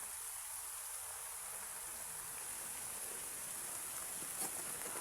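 Steady rain falls across a flooded city in a video game, a constant even hiss of drops spreading wide with no breaks and no talking.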